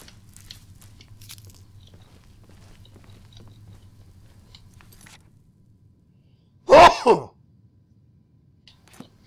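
A single sharp sneeze bursts out after several seconds of near silence, loud and close, in a short double-peaked burst.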